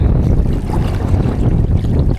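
Strong wind buffets a small fishing boat out on the sea, a loud, rumbling gusty roar close on the microphone with no voices.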